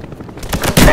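Rapid gunfire from a Cobra helicopter killstreak in Call of Duty: Black Ops, with bursts growing louder toward the end amid dense game noise.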